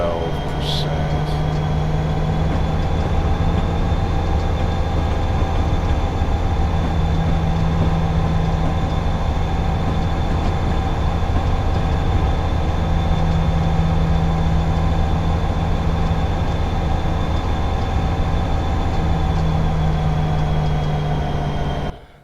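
Simulated BNSF SD75 diesel freight locomotive in Train Simulator 2016, a constant loud low engine drone with a steady hum and faint tonal whine, unbroken throughout before cutting off at the end.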